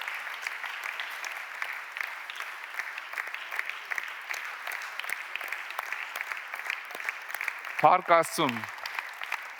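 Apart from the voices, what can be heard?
audience applause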